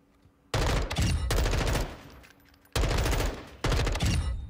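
Bursts of automatic gunfire on a shooting range in the video game Modern Warfare 2, two long loud rapid volleys separated by a short pause, each starting abruptly, with no talk over them.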